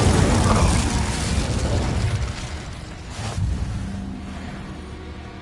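An Incendio fire spell cast in Hogwarts Legacy, a loud roaring whoosh of flame with a rumbling burst that swells and fades over several seconds, alone without speech.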